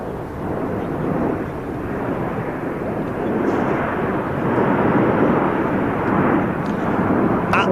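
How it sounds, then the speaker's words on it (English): Royal Air Force Eurofighter Typhoon display jet at an air show, a steady, broad rushing roar at moderate distance that swells slightly toward the end, with no voices over it. "to represent the Royal Air Force Typhoon display team, in from the right, this is the Typhoon"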